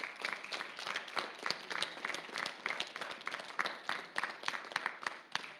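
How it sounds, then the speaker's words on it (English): A school sports awards audience applauds a soccer player honoured for defense, with fairly faint, distant clapping from a modest crowd and individual claps standing out in an uneven patter that continues steadily. "Let's give DJ a good round of applause."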